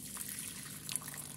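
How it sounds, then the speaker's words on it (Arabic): Boiling water pours into a bowl in a kitchen, a soft continuous trickling and splashing heard close and quiet on its own. "نجيب اي ميه مغليه عندنا ونبدا ننزل كميه منها"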